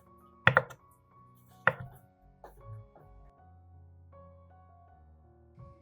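A knife chopping tomatoes on a cutting board: two sharp, loud strikes spaced about a second apart, followed by softer, scattered knocks over a quiet, steady tonal background.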